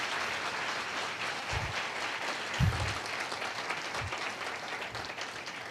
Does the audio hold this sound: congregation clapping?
yes